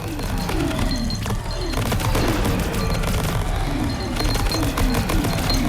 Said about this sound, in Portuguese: Lembrando que esse aqui atira sozinho, né? O dronezinho que fica atirando.